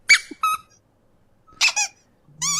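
Rubber squeak toys squeak in short paired bursts with silent gaps between them, close and clear.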